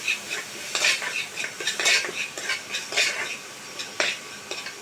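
Ginger garlic paste being sautéed with tomato and onion in a pan, a spoon stirring and scraping in rhythmic bursts over a low background sizzle.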